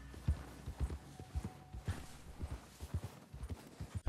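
Hooves of a horse clip-clopping at a walk in Red Dead Redemption II, a steady, fairly soft rhythm of distinct thudding steps over faint background ambience.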